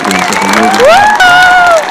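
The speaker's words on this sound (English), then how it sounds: "I got to give a big round of applause to Dan over here on piano." An audience at a live concert cheers and applauds for a pianist, with high whoops and shouts rising over a dense, loud bed of clapping and crowd noise.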